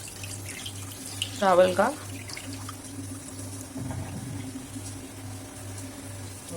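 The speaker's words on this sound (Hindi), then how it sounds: "ये जो भिगोए हुए उड़द है इसका भी पानी निकाल लेना है" Water drains off soaked urad lentils and rice in a home kitchen, a faint pouring and splashing under someone speaking briefly, with a low hum in the background.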